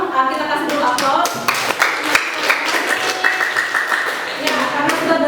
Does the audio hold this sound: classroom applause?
yes